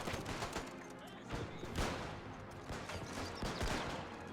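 Gunfire from machine guns and infantry in the WW1 strategy game Between Empires, with the German Empire fighting, as dense overlapping bursts and volleys with several louder shots standing out over a constant battle din.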